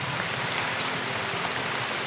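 Steady rain falls and patters densely on surfaces nearby, a constant hiss of drops under darkening skies, with no voices.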